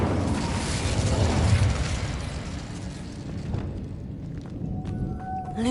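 A fire spell bursts in the Hogwarts Legacy video game with a loud, roaring whoosh that rumbles for a couple of seconds, then fades into softer ambient game sounds with a few faint chimes.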